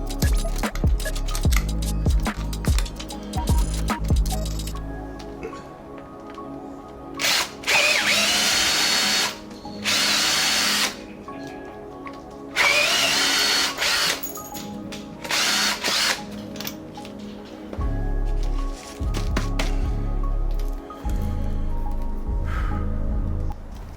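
A power drill bores holes for lever retaining screws on a Royal Enfield Classic 350 motorcycle in loud, whining bursts of a few seconds each. Clinks and handling noises fill the short pauses between bursts.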